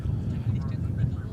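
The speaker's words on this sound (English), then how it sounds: "Looking at this Dreamliner going across, came out of the American Airlines hangar." A Boeing Dreamliner taxis across DFW Airport after leaving the American Airlines hangar, heard as a steady, distant low rumble mixed with wind buffeting the microphone.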